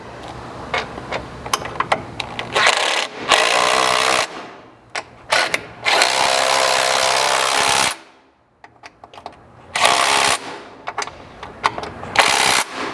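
Power tool running bolts into the rocker slider and body clip nut on a JK Jeep Wrangler during a Crusader slider install, in several loud, sustained whirring bursts separated by short pauses and light clanks.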